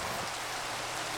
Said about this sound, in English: If I go to sleep, will the rain go away?